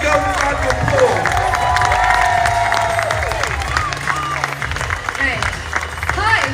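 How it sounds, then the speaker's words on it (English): A crowd claps and cheers loudly, with shouts and voices mixed into the steady applause. "Give these girls a round of applause."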